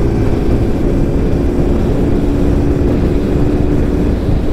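A Voge 350AC lightweight motorcycle cruises at motorway speed, its engine drone and heavy wind rush forming a loud, constant roar with a steady low hum.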